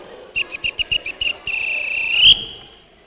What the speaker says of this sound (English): Here comes the whistle of quietness.